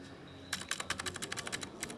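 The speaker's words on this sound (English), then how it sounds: "I love the sound of the keyboard." A computer keyboard clicks in fast, close-up typing bursts during a Tetris tournament broadcast, with crisp individual keystrokes over a low background hum.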